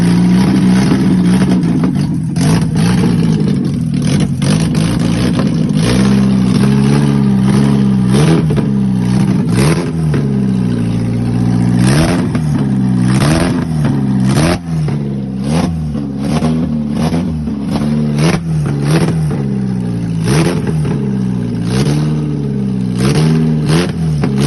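A 30-year-old Nissan SR20DE engine fitted in a K10 Micra runs loud and close for the whole stretch, a steady idle with repeated revving blips that rise and fall, and no talking over it.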